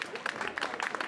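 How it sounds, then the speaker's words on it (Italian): Scattered applause rises from a cabaret show audience, moderately loud and continuous over a short stretch, with some crowd murmur mixed in. "Un altro applauso più forte"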